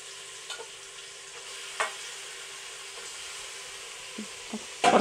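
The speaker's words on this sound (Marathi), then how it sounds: "आता मटण टाकून घेते. असं टाकून घ्यायचं मटण." Mutton goes into a hot pan for kala mutton and sizzles steadily, a bright, continuous frying hiss close by, with a few soft clinks and a stir near the end.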